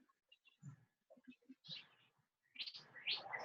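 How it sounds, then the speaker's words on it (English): Soft bird chirps and tweets in short scattered bursts, growing busier and louder toward the end. "I hear birds singing."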